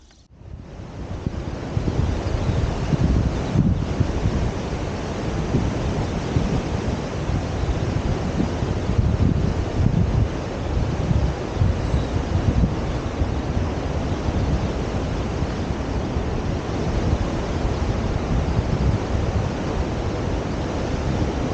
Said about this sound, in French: Ah, les vagues là-bas, hein.